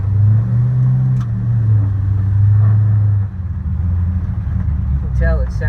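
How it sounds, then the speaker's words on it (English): A 1959 Apache truck with a naturally aspirated LS3 engine running, a loud, steady low rumble that drops slightly in pitch and intensity about halfway through, then settles into a continuous drone. "It's got an LS3, naturally aspirated, but it's a beast."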